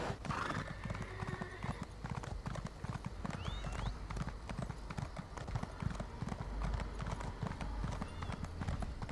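Horse hooves clip-clop steadily at a brisk, even rhythm throughout as a mount travels in the Elder Scrolls Online fantasy video game, with a brief whinny near the start and a voice talking over the trotting.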